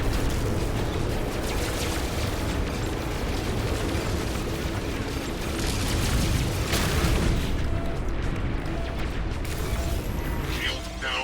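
Anti-ship turrets pound away in a No Man's Sky space fight, a continuous roaring wall of explosions and booming impacts sustained loud and close for several seconds.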